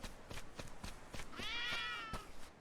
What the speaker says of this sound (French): il y a des chats partout